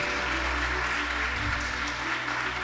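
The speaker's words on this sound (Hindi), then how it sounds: "तो पेरेंट तालियों के माध्यम से बताइए कैसा बना है ऑडिटोरियम" Parents applaud in a school auditorium during an annual report day function, a dense, steady wash of clapping that carries on at an even level from start to finish.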